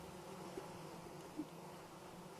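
Steady dense buzzing of a large swarm of bees in a video game, a continuous even drone with no speech over it.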